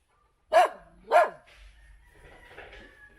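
Two sharp, loud dog barks in quick succession at an eco park in the Philippines, followed by quieter whimpering and background noise.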